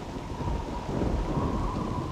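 Rumbling thunder and a steady wash of rain fill a storm in the video game Asheron's Call, a continuous dense roar that swells slightly midway, with no voices.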